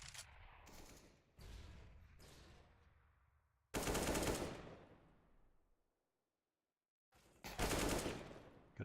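Rapid automatic gunfire from a first-person shooter game, with loud bursts early on, a heavy burst near the middle, a silent gap, then another loud volley at the end.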